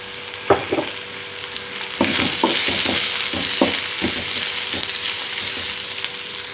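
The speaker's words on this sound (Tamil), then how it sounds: "இப்போ வெங்காயம் வதங்கட்டுங்க. நல்லா வதங்கி வரட்டும்." Onions sautéing with garlic and curry leaves for an onion chutney, a constant close sizzle broken by repeated spoon scrapes and stirring clacks, with no voices.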